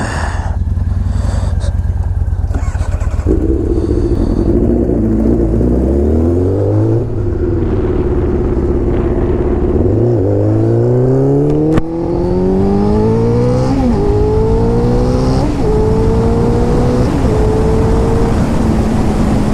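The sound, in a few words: motorcycle being ridden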